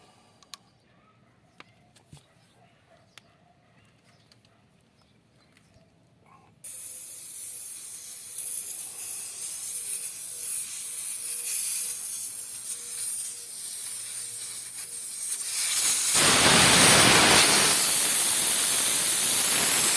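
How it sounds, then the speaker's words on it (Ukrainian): Air hisses out of a tubeless tire valve as the pressure is let down, starting abruptly after a few seconds of quiet clicks and growing into a loud, steady rushing hiss that strengthens further near the end. "Спускаємо спочатку, як завжди, тиск повітря."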